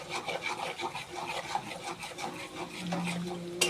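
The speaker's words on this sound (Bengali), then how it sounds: "ভালোভাবে কষিয়ে নেব মশলাগুলো পেঁয়াজের সাথে" Spices and onion are worked around a pan for a potato curry with dried fish, producing a close, continuous rasping scrape in quick repeated strokes, steady and without any voices.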